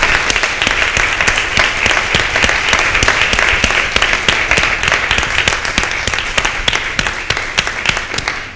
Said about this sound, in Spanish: Pues un aplauso, ¿no?